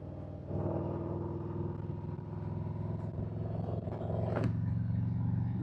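Motorcycle ride heard through a helmet-mounted Rode mic with the visor up: a steady, loud engine drone and wind rumble that hold throughout, with the engine note rising near the end.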